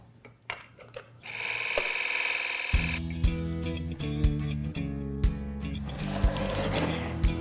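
TrueSharp2 rotary blade sharpener switching on and running with a steady electric motor whir and faint repeated clicks, fairly quiet and close, with no talking.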